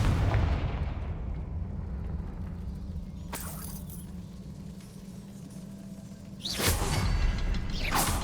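Confringo spell cast in the PS5 game Hogwarts Legacy, a loud fiery blast with a crackling burst that rises out of a steady rumbling game ambience.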